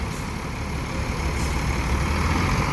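A Kurnia Trans Jaya Abadi tour bus drives along with a steady, loud engine rumble and road noise throughout, no talk.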